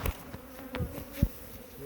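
Honeybees buzzing steadily around an open beehive during beekeeping, a dense close drone with a few louder passes of single bees near the listener.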